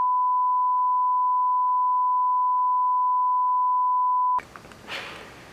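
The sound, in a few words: censor beep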